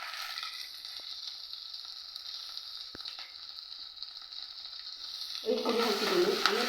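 Tender shoots fry in a pan for tambuli, a steady low hiss of sizzling oil that turns louder and crackling near the end as the pieces are stirred.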